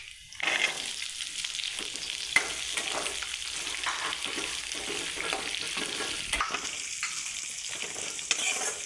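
A cup of onions sautés in a pan for a country rooster semi-gravy, soft steady sizzling with frequent clinks and scrapes of a spoon stirring, close but fairly quiet, no one speaking.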